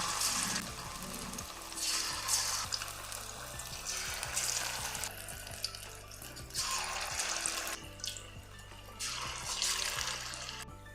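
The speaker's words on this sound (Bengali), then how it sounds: "তেলটা গরম হয়ে গেছে এবার আমি পকোড়াগুলো ভেজে নেবো" Semolina and potato pakoras fry in hot white oil in a wok, giving a steady close sizzle with bursts of brighter crackling and occasional light clinks, no voices.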